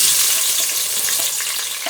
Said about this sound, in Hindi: और प्याज को अच्छे से भून लेंगे।